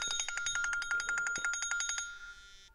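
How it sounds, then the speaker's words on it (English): An alarm clock rings with a fast, steady electronic trill of rapid repeated pulses for about two seconds, then stops abruptly, heard nearby with no voices. "actually that was my alarm to wake up"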